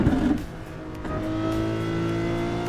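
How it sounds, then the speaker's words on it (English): A Lamborghini engine revs in a driving simulator game, a loud sustained engine note that rises in pitch and holds, heard alone without talk. "This Lamborghini sounds so good."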